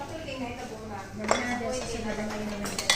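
Plates and cutlery clink during dishwashing after a shared meal, with a few sharper knocks standing out over a steady clatter and murmuring voices in the background.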